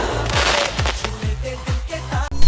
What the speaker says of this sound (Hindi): जलाओ पटाखे।